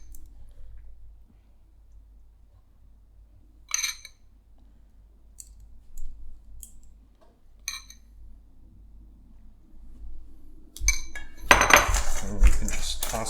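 Chicken wings are tossed in gochujang sauce in a bowl, giving scattered clinks and taps of utensil on dish, then a louder burst of clattering and scraping near the end.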